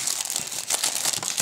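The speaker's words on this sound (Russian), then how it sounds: "следующий у нас пакетик, тут у нас декали и инструкция" A plastic bag holding decals and instructions for a Roden Fokker D VII model kit crinkles steadily up close, a continuous rustling without talk.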